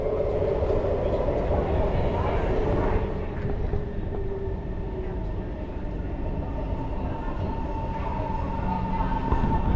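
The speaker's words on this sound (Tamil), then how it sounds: "இது வந்துச்சு எங்கள் ட்ரெயின்." A Singapore metro train rumbles and hisses steadily nearby, its sound shifting gently as it slows into a station, with faint voices underneath.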